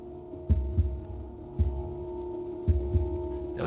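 A heartbeat sound effect from the video game The Last of Us throbs three times at slow, regular intervals, each a deep double thump over a steady low hum.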